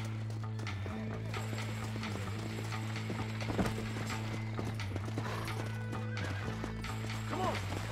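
Horse hooves clip-clop steadily through a Red Dead Redemption game scene, mixed with a horse's whinny and mechanical clicking under a constant low musical drone.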